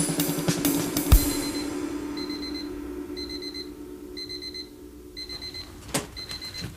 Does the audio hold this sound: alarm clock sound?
yes